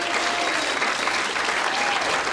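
A comedy club audience breaks into a short, steady burst of applause during a stand-up set, dense clapping from many hands throughout.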